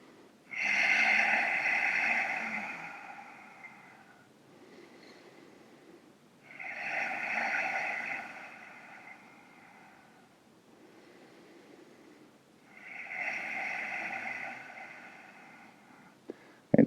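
Three slow, breathy exhalations through the throat during a yoga stretch, each a rushing hiss of about three seconds, spaced by quiet pauses, close and fairly soft.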